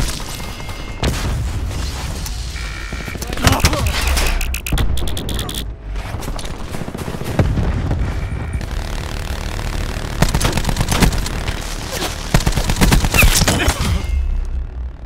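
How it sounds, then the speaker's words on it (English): A sentry gun fires in Call of Duty Black Ops 4 Kill Confirmed gameplay, with repeated sharp gunfire bursts and thuds scattered across a busy, cluttered battle mix, moderately loud, and game voice callouts are heard over them. "Enemy sentry firing."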